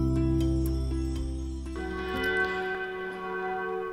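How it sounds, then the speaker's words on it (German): Bells of the Catholic church of St. Egid in Vienna's 6th district ring in the background, overlapping tolls sustaining and shifting in pitch, moderately distant and steady without talk. "Mit freundlichem Glockengeläut im Hintergrund"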